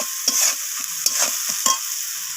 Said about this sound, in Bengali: পেঁয়াজটাকে আমি একটু হালকা বাদামি রং ধরা পর্যন্ত এখানে ভেজে নেব